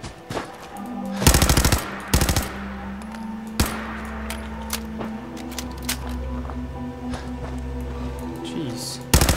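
Gunfire in the video game Fallout 4, a few loud bursts of rapid automatic shots and single sharp cracks over a steady low game background hum, close and punchy, with a player's voice intermittently over it.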